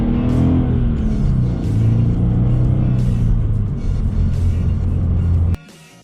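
A 2013 Scion FR-S sports car driving at night on a mountain touge road, with a loud, close, steady engine drone and road rumble that holds and then drops off sharply near the end.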